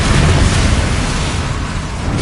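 Explosive spell blast in the Hogwarts Legacy video game, a loud, dense booming roar that fills the whole clip without clear breaks, with no talk over it.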